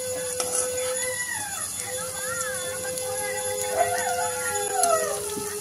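Several dogs howl in the evening in a neighbourhood, long wavering howls rising and falling at mid distance over a steady background hum, with a high tonal whine running across.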